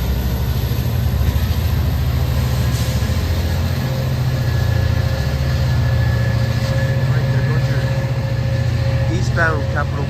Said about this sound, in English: Eastbound Capitol Corridor train 548 to Sacramento.